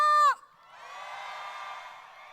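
A loud shouted call gives way to sustained cheering and whooping from a large crowd at an opening concert of a fruit festival, holding steady at moderate volume for about two seconds.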